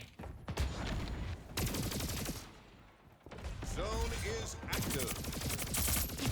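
Gunfire in the first-person shooter Splitgate 2 comes as rapid, loud automatic bursts separated by short pauses, and a voice talks over part of it.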